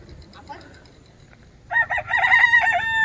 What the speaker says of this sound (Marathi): पप्पानी गाडीमध्ये कोंबडा ठेवलाय